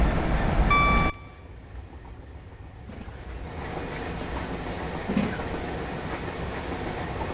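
Express service from Edinburgh to Plymouth in a train simulator game: a loud rail rumble that drops off abruptly, then a quieter rumble with clattering that slowly builds, with no talk.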